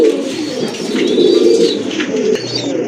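Pigeons kept for sale coo steadily at close range, a low throaty rolling murmur running the whole time with a few faint higher chirps above it.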